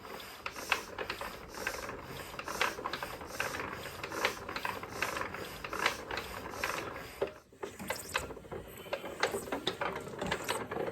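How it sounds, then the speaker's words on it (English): Someone hand-cranks a Wu Ling diesel engine with the compression release engaged, producing a quiet, close, rhythmic ratcheting click-and-whir that repeats steadily, pauses briefly, then resumes. "I'm just going to hand crank this thing over and see if we can build any kind of oil pressure"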